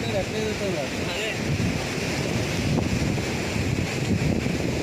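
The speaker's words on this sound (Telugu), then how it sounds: "సముద్రం ఫాస్ట్ టైం చూస్తున్నాను" Sea waves roll onto Bapatla beach under strong wind buffeting the microphone, a constant loud roar, while people's voices come through faintly early on.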